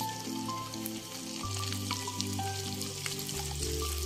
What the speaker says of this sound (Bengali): দেখুন ডিমটা আমার লাল লাল করে ভাজা হয়ে গেছে।